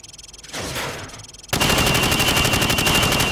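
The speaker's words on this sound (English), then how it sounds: "shoot at the targets while firing from the hip" A rifle fired from the hip at range targets in Call of Duty 4: Modern Warfare, opening with a hollow rush of sound before a loud, sustained rapid-fire burst of evenly spaced shots.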